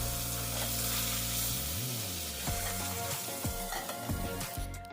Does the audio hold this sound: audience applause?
no